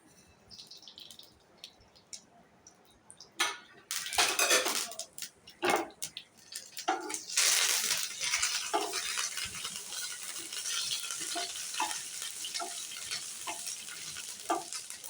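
Curry leaves and mustard seeds crackle and spit in hot mustard oil, a loud burst of sizzling and popping that settles into a steady fry with scattered sharp pops and a few utensil clinks.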